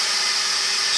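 A wood lathe spins a beginner's bowl blank, giving a steady, loud mechanical whir with a constant hum, alone and without talk.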